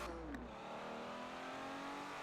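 A Lamborghini Aventador's engine revs steadily in Forza Horizon 4, a loud, sustained drone with a rising pitch sweep near the start, continuing without pause.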